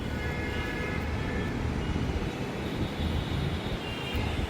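A metro train rolls past in a steady, loud rumble that stays even throughout, with a broad rushing roar and faint high whine on an elevated line during early monsoon rain.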